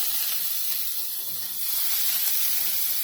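Onion and curry leaves frying in a pan, giving a steady, close hiss and sizzle that stays even throughout with no voices over it.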